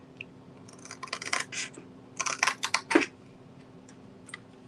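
Scissors cut into canvas in two close bursts of quick crisp snips and scratchy slicing, separated by a short pause, with no talking.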